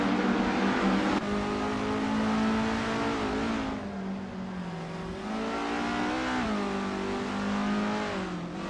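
A 1972 Estonia 18 race car in a racing video game holds a steady, high-pitched engine drone, rising and dipping slightly with small revs, loud and continuous with no talk.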